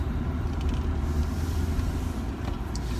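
A car drives along a road with a continuous low engine and tire rumble at steady volume, heard from inside the vehicle.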